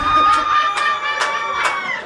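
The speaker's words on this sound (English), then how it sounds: "They're clapping for me." Loud, continuous applause and cheering from an audience, with excited shouting voices and a few sharper bursts of noise over the steady roar of the crowd.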